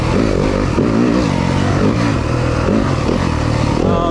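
A 2023 Yamaha 250FX dirt bike engine revs loud and close, with a continuous rising and falling four-stroke growl and some mechanical clatter, no talking.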